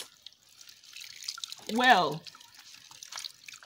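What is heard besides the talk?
tap water rinsing soapy hands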